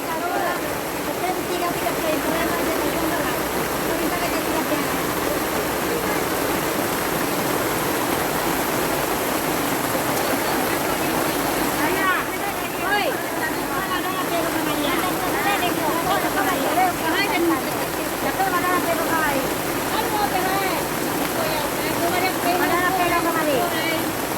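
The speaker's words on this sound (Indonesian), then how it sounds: "hujan semakin deras teman-teman ya" Steady, dense rush of heavy rain pouring down continuously, with faint voices talking underneath.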